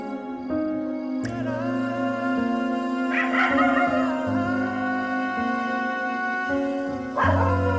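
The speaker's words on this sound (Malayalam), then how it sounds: "പട്ടി മോങ്ങുന്നതിന് എന്തിനാ പേടിക്കുന്നേ?" A dog howls and whimpers in a long, wavering series of cries against a steady background tone at night in a Malayalam TV serial scene, with a few sharper yelps near the middle and end.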